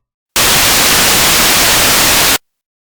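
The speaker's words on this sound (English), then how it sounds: "And noise." A steady hiss of synthesizer white noise, flat and continuous for about two seconds, starting and stopping abruptly with nothing else audible.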